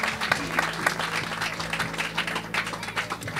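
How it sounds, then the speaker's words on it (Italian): Audience applause at a book presentation by an author, a steady wash of many hands clapping that fills the whole span, with a little crowd murmur underneath. "del nuovo libro di Mauro Giangrande, a cui rivolgerei subito un applauso"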